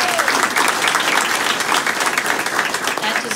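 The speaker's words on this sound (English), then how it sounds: "That deserves applause." An audience applauds at the opening ceremony of Columbia Basin College's new Dental Hygiene Clinic, with brisk, dense clapping throughout the short burst.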